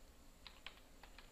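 Quiet computer keyboard typing, four sharp, separate key clicks close by at an irregular pace, with no voices.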